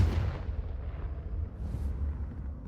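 A deep, rumbling blast from the Confringo fire spell in Hogwarts Legacy booms at the start and then rolls on as a low, sustained roar.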